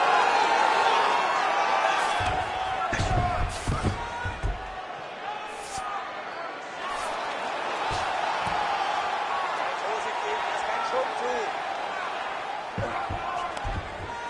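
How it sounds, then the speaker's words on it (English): An arena crowd in the UFC 5 video game roars and applauds the fighters after a grappling exchange, a steady wash of cheering with a few sharp thuds, running under continuous commentator talk. "they can take in the applause because they deserve it after that grappling exchange"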